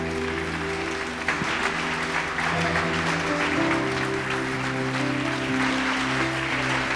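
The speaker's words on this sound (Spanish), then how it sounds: "Ponte de pie y dale un fuerte aplauso al Señor." Congregation applauding the Lord during a church service, steady clapping close by over a sustained musical drone with held tones underneath, no talking.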